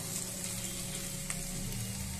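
Chicken gizzards and liver frying with onions in hot oil, a steady, fairly quiet sizzle with fine crackling and a brief stir partway through, with no talk over it.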